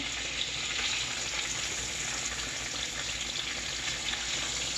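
Thick sirloin chops fry in a pan with a steady, dense sizzle and crackle heard up close, continuous throughout with no talking.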